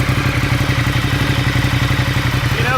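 A Ducati Diavel motorcycle engine with a Remus slip-on exhaust runs loud and close with a steady throbbing rumble and a rising whine near the end, revving to about 6,000 rpm.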